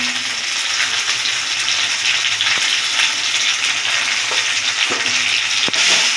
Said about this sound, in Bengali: আদা রসুন লঙ্কা বাটাটা দিয়ে দেবো, দিয়ে নাড়াচাড়া দেবো।